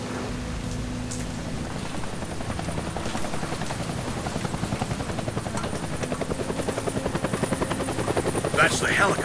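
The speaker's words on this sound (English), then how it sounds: "That's the helicopter chasing my friends." A helicopter in the video game Deadlight chases characters, its rotor thumping in a steady rapid pulse that grows more pronounced over a constant rain-like hiss, with a brief sharper noise near the end.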